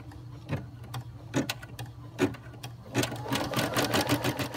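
An embroidery machine stitches a design in silver thread onto a toilet paper roll, giving a near, steady mechanical chatter of rapid needle strikes with a few louder thumps, growing busier toward the end, with no talking.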